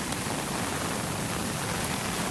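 Strong floodwater after a full day of heavy rain pours over a small weir, a steady, loud, broadband rushing roar that stays constant and unbroken with no voices.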